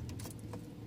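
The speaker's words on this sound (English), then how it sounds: "taking the keys out" Car keys jangling briefly as they are pulled out of a parked car, light metallic clinks over a low steady rumble of the vehicle.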